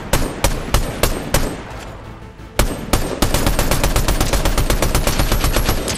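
Gunfire in Fortnite Chapter 5 gameplay: at first separate sharp shots spaced out, then, after a short pause, a dense burst of rapid automatic fire. The shots sound loud and punchy, with no talking.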